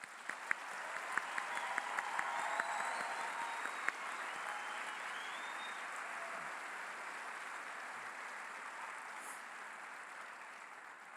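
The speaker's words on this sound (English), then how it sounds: "Please join me in applauding these men and women on their accomplishments." Applause for graduating recruits of Corrections Academy Class 97 at their graduation ceremony: a broad, fairly distant wash of clapping from a large audience, with a few sharper claps early on, sustaining steadily and then thinning slightly.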